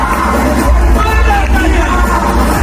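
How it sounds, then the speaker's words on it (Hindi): An audience gives loud applause and a standing ovation as a guest is called on stage, a dense, roaring wash of clapping and crowd noise with a few shouts rising out of it. "एक बार जोरदार तालियां with your standing ovation"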